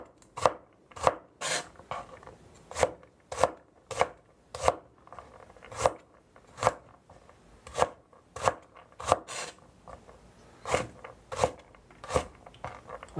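A knife chops chicken for green curry with coconut sauce into pieces on a cutting board, with sharp, fairly regular strokes, close and distinct, and no voices.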